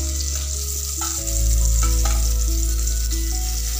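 Fish frying in oil in a hot kerahi for a curry gives a steady, close sizzle with occasional sharper crackles, over a constant low hum that grows louder partway through.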